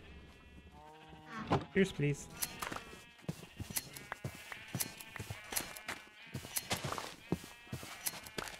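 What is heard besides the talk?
sheep bleating in Minecraft video game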